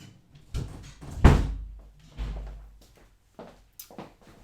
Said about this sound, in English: let me close the door because someone just came in the house